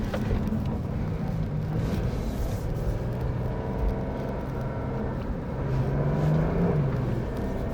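A new Porsche 911 Turbo S driven at performance pace through a slalom course makes a steady, full engine rumble that swells and rises in pitch toward the end.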